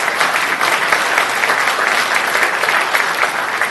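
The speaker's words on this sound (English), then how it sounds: "give yourself a round of applause right now" A roomful of people at a fruit festival introduction applauds steadily and loudly, a dense, even wash of clapping that holds for the full stretch without any voice cutting through.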